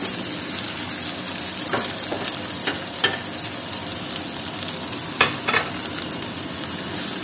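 Barberries being stirred as they sauté in a pan, a steady frying sizzle throughout with a few sharp scraping clicks of the spoon against the pan.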